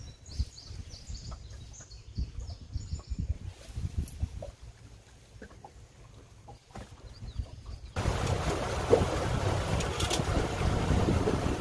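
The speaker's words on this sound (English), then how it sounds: "the wind is picking up" Wind gusting outdoors at a waterside fishing spot with birds calling, a low buffeting rumble that swells into a loud, steady broadband rush for the last few seconds.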